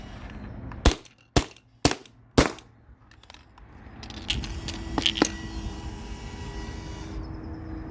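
A modified Valken M17 paintball marker fires four sharp, evenly spaced pops close by, followed by a cluster of softer shots and a low airy hiss.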